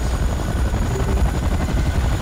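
Heavy, continuous rotor thrum of a Chinook twin-rotor helicopter in the video game RenAlert, loud and close, with a dense low rumble and no voices.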